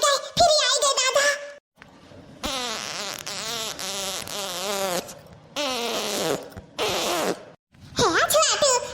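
Cartoonish fart noises in a comedy sketch, where a man has just eaten a bowl of paneer and several plates of puris: a run of long, buzzy, wavering bursts with short gaps, loud and close.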